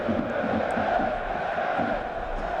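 A packed stadium crowd at a third-division 1860 Munich versus Bayern Munich II football match roars and chants after an 1860 goal, a dense sustained wall of voices at steady loudness.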